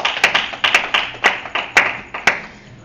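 A congregation claps in unison at a French-language church service, a series of sharp, evenly spaced rhythmic claps that fade at the end, with no talking.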